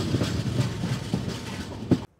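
A Dibrugarh–New Delhi Rajdhani Express pulls into Kokrajhar station in Assam, giving a steady low rumble of railcars with soft rhythmic clatter and a few louder knocks, close by and without talk, before cutting off abruptly.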